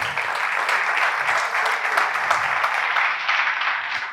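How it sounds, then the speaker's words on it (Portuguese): A church congregation gives a steady burst of applause during a Sunday afternoon service, dense many-handed clapping sustained at even loudness before tapering at the end. "Se você crer, dá uma salva de palmas bem forte para Jesus."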